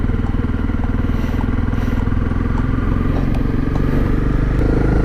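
Honda CRF250 Rally dirt bike with its standard exhaust riding off road, a steady, moderately loud engine drone with a constant low hum and light clatter throughout.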